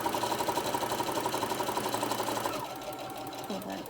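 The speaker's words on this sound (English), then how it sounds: "I'm going to sew this right down. I'm going to go all the way to the bottom." A sewing machine stitches down the side of a cell phone cross body bag, its needle chattering in a fast, steady mechanical rhythm up close before slowing and stopping, with a voice talking over it.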